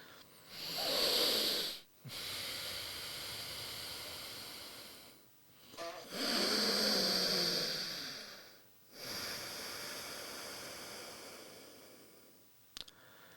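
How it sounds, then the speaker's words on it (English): Alternate nostril breathing in the nadi sadhana pranayama style: long, hissing nasal inhales and exhales, close and quiet, in a steady slow cycle with brief pauses between breaths and no talk. "Pranayama techniques such as nadi sadhana, which is alternate nostril breathing, isolating each nostril."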